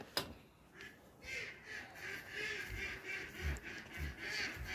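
Faint, distant crested ducks quack in short scattered calls over a quiet outdoor background at a poultry farm.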